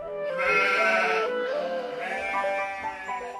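Goats bleat in long wavering cries, two overlapping calls loud and close, with nothing else heard, in a village story about a goat herder taking his herd up a mountain.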